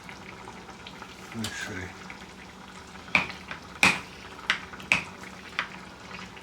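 Bolognese sauce sizzles faintly in a pan on high heat, with a few sharp spoon clinks and scrapes against the pan as it is stirred now and then, while a voice speaks briefly.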